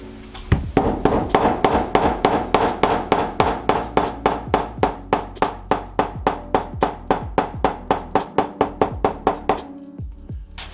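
A hammer taps down the stitch tails on saddle-stitched leather in a quick, even run of about thirty sharp knocks. The blows are close and crisp, then stop abruptly near the end.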